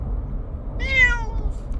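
A Bengal cat gives one clear, drawn-out meow inside a car, heard alone over the low rumble of the moving vehicle.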